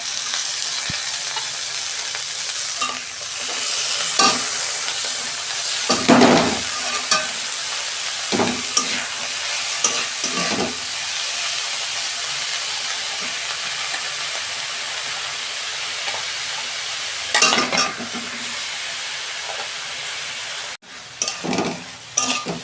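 Eggplant and jukti phool fry in a pan, a continuous close sizzle broken by repeated scraping and clattering strokes of a spatula as the food is turned, with a brief dip near the end.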